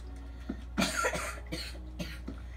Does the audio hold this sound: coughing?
yes